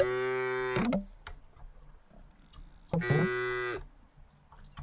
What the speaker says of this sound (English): Okay, the cow isn't too pleased with that.